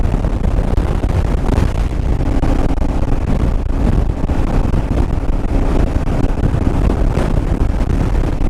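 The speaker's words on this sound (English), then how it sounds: "Keep getting gusts of wind blowing one side of the road to the other." Loud, continuous wind buffeting rumbles without a break on a motorcycle ride, a heavy roaring rush with gusty swells throughout.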